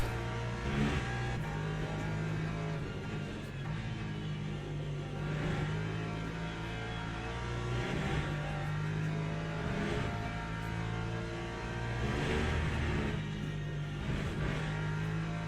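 Ferrari hypercar engine in Le Mans Ultimate racing on track, a steady sustained drone with rising and falling revs across gear changes, heard from the cockpit at moderate level throughout.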